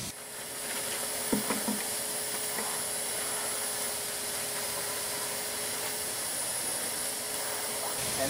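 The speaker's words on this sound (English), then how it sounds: "we're going to collect it with a vacuum system" An Ermator W2000 wet vacuum runs steadily while collecting concrete slurry from a floor, a constant airy whine and hiss at moderate volume with a few faint knocks early on.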